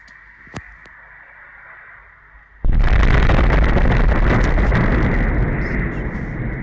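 Quiet background hum, a sharp pop, then a sudden massive roaring blast that keeps rumbling loudly, heavily distorted, recorded nearby at half past midnight in Kurchatov, Russia, near the Kursk nuclear power plant.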